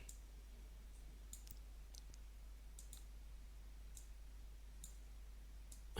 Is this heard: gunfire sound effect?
no